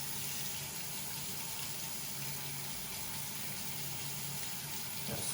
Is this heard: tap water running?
yes